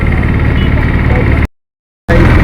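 Auto rickshaw engine running loud and close, a steady rattling drone that cuts out briefly before resuming.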